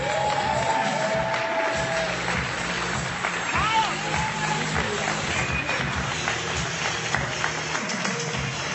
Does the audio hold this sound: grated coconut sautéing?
no